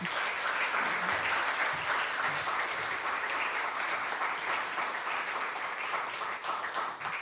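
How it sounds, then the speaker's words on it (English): An audience applauds at an art opening reception in a Unitarian church in Littleton, with steady, even clapping that carries on throughout at a moderate distance. "let's just have another round of applause for all the artists."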